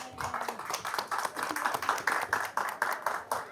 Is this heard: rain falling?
no